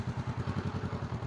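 A motorcycle rolls at low speed, a quiet, evenly pulsing engine putter with a regular rhythm lasting just over a second, with no voices.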